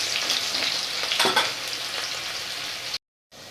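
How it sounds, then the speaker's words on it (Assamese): Potato pieces frying in a pan of hot oil give a dense, continuous close-up sizzle with a faint stir partway through, then cut off abruptly near the end. "আলুখিনি একেবাৰে ৰংচঙীয়া হোৱালৈকে ভাজি থাকিম"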